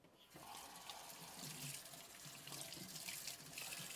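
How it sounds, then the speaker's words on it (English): Tap water runs steadily into a sink while tomatoes are washed for a cucumber and tomato salad, a continuous close splashing hiss with no voices. "We'll wash our tomatoes."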